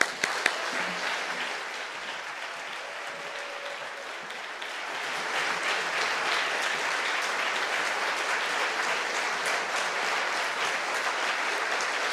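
Church congregation applauding a pastor taking the stage at a Sunday evening New Year blessing service, a steady, dense wash of clapping that holds for about twelve seconds and grows slightly fuller midway.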